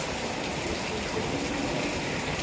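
Steady, fairly light rain falls with a soft, continuous hiss, even and unbroken, with no voices, during a lightning storm.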